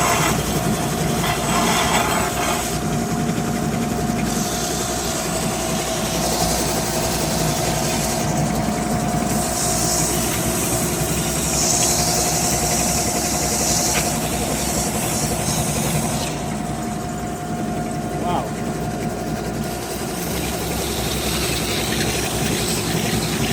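A belt sander grinds against an indestructible shoe in a continuous loud, rough motor roar with abrasive hiss, steady throughout with slight shifts in pressure and no talking.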